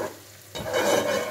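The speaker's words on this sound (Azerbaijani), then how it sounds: "Mən soğanı az-az qovururam" Onions fry in a pan for a festive Novruz rice dish, a soft sizzle giving way to a louder, crackling hiss as they are stirred, close by with no talk.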